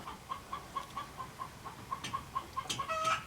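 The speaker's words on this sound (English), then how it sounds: "Don't mind the chickens in the background" Chickens clucking in the background of a garage where a Ford F150 with a 300 cubic inch inline-six is being worked on: a steady rhythmic string of clucks, then a few louder squawks near the end.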